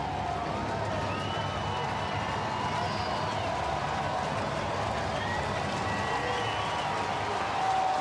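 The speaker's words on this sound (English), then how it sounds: "Noise out of the crowd." A baseball stadium crowd at a Philadelphia at Cincinnati game makes a steady roar of cheering and noise that continues throughout.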